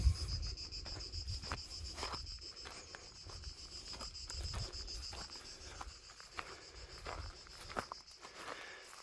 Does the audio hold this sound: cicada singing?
yes